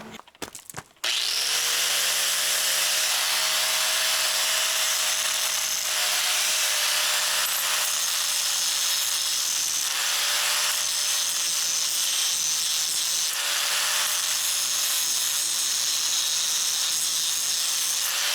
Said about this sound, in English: So I'm going to grind this out a little bit so that these triangles fit in here.